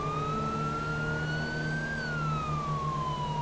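A police car siren in GTA 5 with the LSPDFR mod wails in one slow rising and falling sweep over a steady low engine hum, loud and continuous, with no talk.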